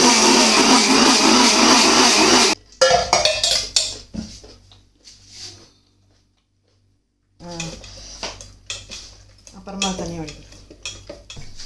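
A kitchen mixer grinder loaded with coconut and cardamom roars loudly for a couple of seconds, then stops, followed by scattered clattering and handling noises before a second burst of activity.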